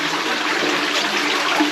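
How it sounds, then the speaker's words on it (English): A toilet in a Brussels hotel apartment flushes with a loud, steady rush of water that fills the whole short moment, close and unbroken. "Oh, a lot of water to flush the toilet."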